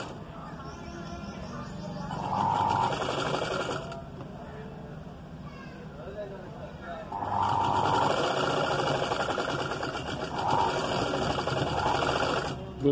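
A sewing machine stitches piping onto the reverse side of a blouse, running in two long loud bursts of steady whirring with a quieter pause between them, and a voice talks faintly underneath.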